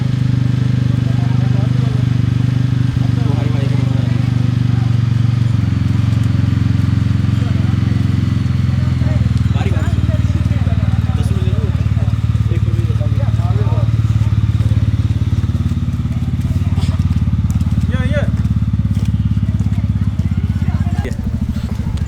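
A Bajaj Dominar motorcycle drones steadily and loudly on a winter mountain ride through Spiti Valley, with wind buffeting and a rider talking over the continuous engine noise.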